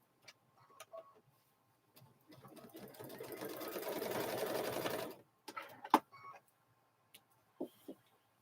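Sewing machine back stitching on a quilted Grinch handbag, a few-second burst of fast, even mechanical whirring, framed by scattered clicks and handling taps in an otherwise quiet room.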